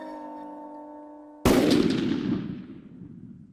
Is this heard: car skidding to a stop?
no